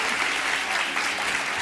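A Brazilian television studio audience cheering and clapping loudly, a dense, continuous burst of applause with no pauses.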